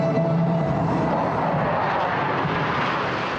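Korean Air Force Black Eagles jets roar steadily overhead at the Singapore Airshow, a loud, continuous broadband engine rush that holds without a break.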